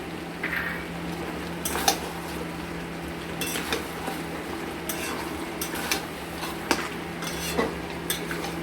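Pieces of mutton fat drop into a pot of mutton and potato curry that is nearly done, setting off a soft steady sizzle under scattered clinks and scrapes of a stirring spoon against the pot.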